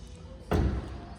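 A single solid thud rings out midway, a lid or hatch being shut, with a brief low rumble trailing after it.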